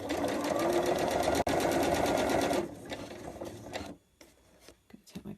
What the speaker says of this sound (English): I'm just going to start sewing down it until I get to my really chunky denim flat fell seam